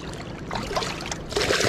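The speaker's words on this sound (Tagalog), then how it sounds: "Grabe yung alon, katakot." Choppy ocean waves slapping and rushing around a small boat, a close, continuous watery churn that surges louder near the end, with no talking.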